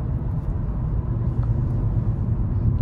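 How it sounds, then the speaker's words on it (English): Low, steady road rumble inside a 2020 Nissan Kicks small SUV while driving, a continuous moderate drone of tire and road noise with no talking. "I'm hearing a little bit of road noise, but it's honestly not that bad"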